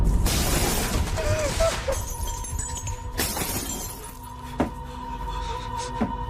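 Glass shatters and crashes amid a loud, noisy jumble of banging and clattering debris, followed by scattered clinks as the commotion settles.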